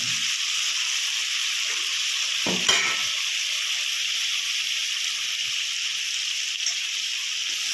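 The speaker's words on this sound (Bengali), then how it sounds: "এখন দিয়ে দেবো 4-5টা কুচানো কাঁচা লঙ্কা" Chopped green chillies hit hot oil in a kadai for chicken, producing a loud, continuous hissing sizzle that holds steady throughout, with a single brief clatter of a utensil partway through and no speech.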